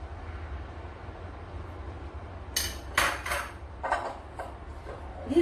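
Cream cheese and Oreo filling are mixed in a bowl for Oreo truffles. A spoon clinks and scrapes against the dish in a few brief knocks over a low room hum.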